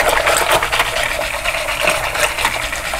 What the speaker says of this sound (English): I'm using a silicone coated whisk.